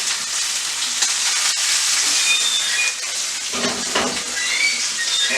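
Meat sears and sizzles loudly in a hot sauté pan with steady frying hiss throughout, a brief stir or flip of the food partway through, and no talking.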